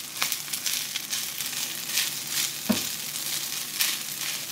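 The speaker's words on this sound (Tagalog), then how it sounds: "Tapos, yung bawang, igigisa ko na din. Isangag na din natin yung kanin." Garlic and rice fry in a hot pan with a continuous crackling sizzle, broken by a few soft scraping stirs, close and moderately loud with no talking.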